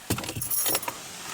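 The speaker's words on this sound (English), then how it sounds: "Throw the keys in there." A bunch of keys lands in a cardboard box with a brief bright jangle and a few metallic clinks, close and fairly loud, then falls quiet, with no voices.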